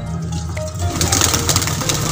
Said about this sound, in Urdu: یہ ہے جی بانگے کبوتر